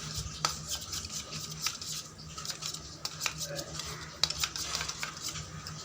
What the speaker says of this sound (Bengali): খুব ভালো করে দইটাকে ফেটানো হয়ে গেছে।